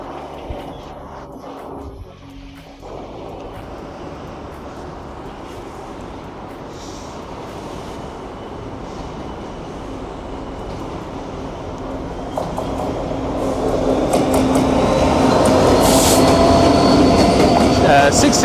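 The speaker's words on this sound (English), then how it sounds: "now here it comes on its way down to Doncaster with GB rail freight 66." A GB Railfreight class 66 diesel freight train approaches and passes at Manors in Newcastle, heading toward Doncaster; a low engine rumble builds steadily and grows loud with wheel noise near the end, with faint talk early on.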